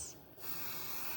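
A spray bottle mists water onto quilt fabric, a single soft hiss that swells and holds steady at close range.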